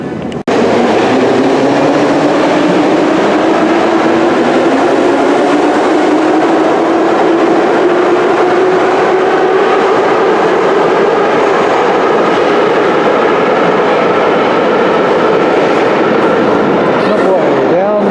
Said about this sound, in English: That sound you heard earlier was just the subway taking off.